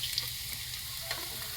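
Corned beef browns in a pan on an outdoor dirty-kitchen stove with a steady, close sizzle and a few faint stirring scrapes. No one speaks.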